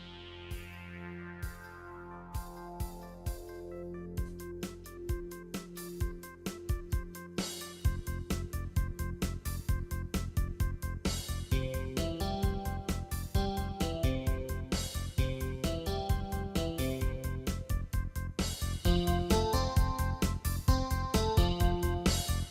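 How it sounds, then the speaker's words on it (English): An original summertime song sample plays back, a bright plucked melody with a steady rhythmic beat that grows fuller partway through, with no voices over it. "I wrote a sample of a summertime song that sounds like this"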